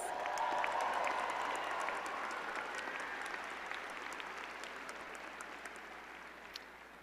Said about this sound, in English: Let's go give Lolita one more round of applause.